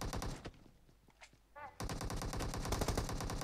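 Rapid automatic gunfire in the battle royale game PUBG, close and loud, rattling in fast bursts that pause briefly while a voice speaks, then resume as a sustained stream.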